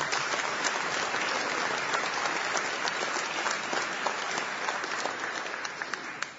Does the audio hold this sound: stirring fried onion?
no